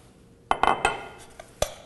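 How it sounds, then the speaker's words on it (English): In a home kitchen, a bowl is set down on a counter while making potato risotto, giving a few quick, close ceramic clinks and knocks over about a second, with no talk. "I'm going to put this bowl right here."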